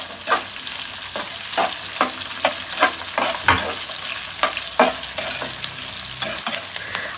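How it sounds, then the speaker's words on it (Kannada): Onions sizzle and fry in oil with chana dal and green chillies, stirred often, giving a steady crackling hiss broken by repeated scraping strokes of a spoon in the pan, close up with no talking. "ಆನಿಯನ್ನು ಕೂಡ ಆಯಿಲ್ ಜೊತೆ ಚೆನ್ನಾಗಿ ಫ್ರೈ ಮಾಡ್ಕೊಂಡಿದ್ದೀನಿ."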